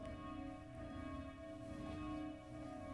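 Church bells of the Auferstehungskirche in Münnerstadt ring in the daily 19:30 ecumenical pealing, a faint, steady, sustained wash of overlapping bell tones heard from a distance.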